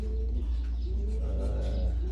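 Soft, repeated pigeon cooing, near and steady, over a constant low hum, with no one speaking.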